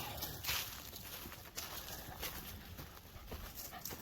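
Three dogs pant on a woodland trail walk, quick rhythmic breathing close by over rustling outdoor noise, fairly faint, with a few small whimpers and no talk.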